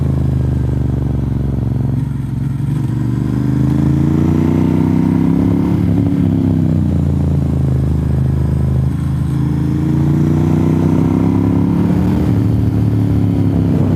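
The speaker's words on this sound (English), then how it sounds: "That's the third motorcycle I've seen today." A motorcycle engine drones loudly nearby on NC 28 in Franklin, North Carolina, its pitch swelling and dipping in slow waves as it passes, over a constant low rumble.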